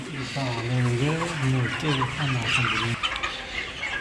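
Chickens on a poultry farm cluck and call repeatedly in a loud, close, overlapping run, with a busy farmyard hum and scattered clatter continuing after the calls fade.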